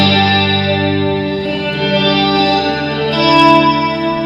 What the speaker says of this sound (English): It kind of does that warble thing.